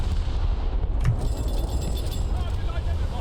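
A warship's guns fire at an enemy ship in War Thunder naval battle aboard the Izmail, one muffled boom early on against a constant engine and sea rumble, with someone talking over it.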